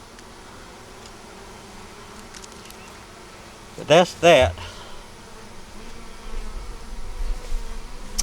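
Honeybees buzzing around a hive during a beekeeper's queen-rearing work, a steady insect drone with a couple of louder close passes as bees fly near, while someone speaks briefly.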